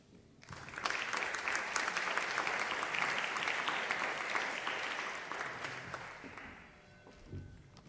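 A round of applause for panelists at a national birthday celebration event, a dense, sustained crowd clapping that builds quickly, holds steady for several seconds, then fades out near the end.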